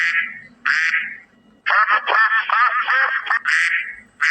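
A duck quacks loudly and close in a run of calls. Two short, nasal quacks come first. A fast chattering burst of rapid quacks follows, and a final short quack ends the run, with no other sound behind it.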